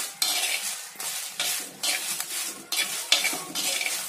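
Coriander and spices being dry-roasted in a pan, with repeated scraping strokes of a utensil stirring the seeds in a steady rhythm, close and fairly loud with no voices.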